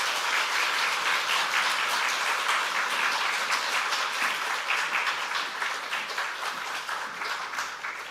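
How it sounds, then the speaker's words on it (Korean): Warm, sustained applause from a large church revival audience fills the hall, dense and even, with no one speaking over it as it gradually tapers. "우리 뜨거운 박수로 환영하도록 하겠습니다."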